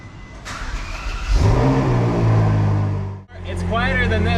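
A Corvette C8 convertible engine cranks, catches and revs up to a loud, steady roar close by, then dips briefly and settles again, with people talking over it.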